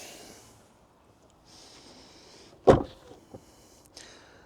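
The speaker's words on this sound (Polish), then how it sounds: "Więc delikatnie teraz zamykamy drzwi" A Tesla car door is eased shut gently, a single soft thud after a faint mechanical whir, followed by a couple of quieter clicks in a quiet setting.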